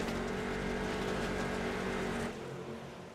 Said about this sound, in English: You hear these cars really digging into the dirt.